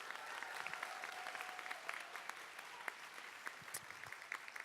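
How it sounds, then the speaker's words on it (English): An audience at a Tech Challenge awards ceremony for grades 7 and 8 applauds the volunteers: quiet, distant clapping from a crowd, steady with a few sharper individual claps standing out near the end, and no speech. "So let's give a round of applause to our volunteers"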